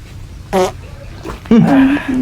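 A fart, heard as two short buzzy tonal bursts, the first brief and the second longer and wavering, with people talking and laughing around them in a Filipino household setting.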